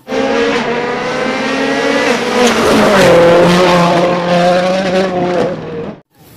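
A toy race car plays a loud electronic engine sound effect, a sustained revving roar that rises in pitch, tires squealing partway through, before it cuts off abruptly near the end.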